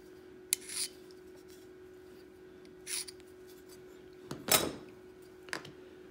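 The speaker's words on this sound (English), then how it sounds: "So I'm using my center finder and a scribe. And these mark pretty good, surprisingly." A metal scribe guided by a center finder scratching lines across a rubber hockey puck, several short, quiet scraping strokes spaced out over a faint steady hum.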